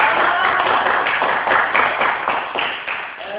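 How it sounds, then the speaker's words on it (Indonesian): Dense clapping from a discussion gathering crowd rolls on steadily for a few seconds, loud and close, before tapering slightly at the end. "Oke, kasih tepuk tangan dong buat semua yang komentar."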